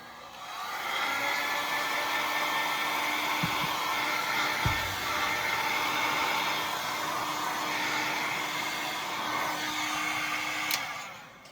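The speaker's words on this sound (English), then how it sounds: "Now I'm going to grab my heat gun and dry this." A heat gun blows steadily over a painted book cover, a loud continuous whooshing drone near the mic with a faint hum beneath, running unbroken for nearly the whole stretch before cutting off at the end.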